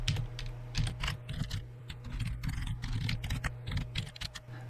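Steady typing on a computer keyboard during a programming session, with a dense run of close, crisp key clicks over a low constant hum and no talk.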